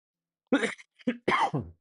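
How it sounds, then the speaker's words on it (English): A short run of about four harsh coughs, close and fairly loud, with brief pauses between them and no talking. "Excuse my cough"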